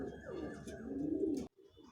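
A young pigeon coos close by in a short, soft burst of throaty calls that stops abruptly, followed by a brief faint murmur.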